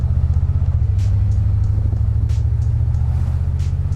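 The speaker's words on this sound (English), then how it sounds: "Nice and smooth, transmission shifting as it should." An AMC Javelin muscle car from the 1970s cruising with its automatic transmission shifting smoothly, a deep, steady engine rumble heard from inside or close by, with faint ticking and light road noise over it.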